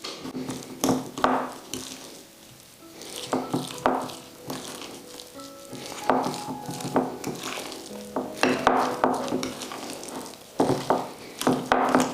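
Spoon beating and stirring a dairy-free butter mixture in a bowl, with irregular scraping and clinking taps against the sides, close and fairly loud, coming in uneven bursts with short pauses.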